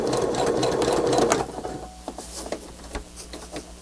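A sewing machine stitches along a line through a cutout in its presser foot while finishing a handmade nature journal cover: a steady, dense, close whir for about a second and a half, then it stops, leaving faint clicks and handling noises.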